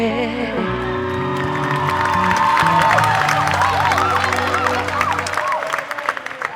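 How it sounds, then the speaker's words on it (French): Applause and cheering from a talent show audience swell right as the music ends, with whoops and shouts from the crowd. The clapping grows louder through the middle, continues alone and loud for several seconds, and fades toward the end. "On l'applaudit encore très fort."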